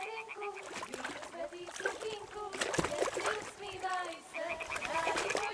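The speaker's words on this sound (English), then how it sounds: "Throw a stone in the water near her to lure her away" In Kingdom Come: Deliverance II, a thrown stone splashes into water, a short wet splash among lapping, burbling water sounds and outdoor ambience, with a voice talking over it.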